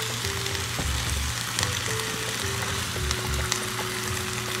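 Zucchini and chicken fillet crackling and sizzling in a pan while being stirred, a loud steady frying hiss with a few soft utensil knocks nearby.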